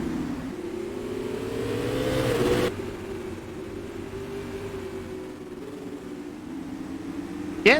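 Supermodified race car engines in a sim racing game drone loudly and steadily, holding a high, strained note with a slight pitch shift midway. There is no talking over them.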